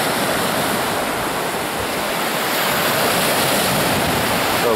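Sea waves breaking on the shore of a Çanakkale cove, a steady, loud wash of roaring surf with no pauses, close to the listener, and no voices.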